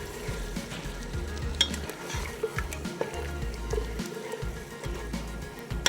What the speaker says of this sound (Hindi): पहले दही डाल के थोड़ा भून दें हाई फ्लेम पे